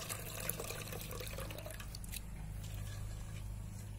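Tamarind is squeezed and dissolved by hand in water for a village dried-fish curry, giving soft, continuous wet squishing and dripping sounds at close range, with no talk.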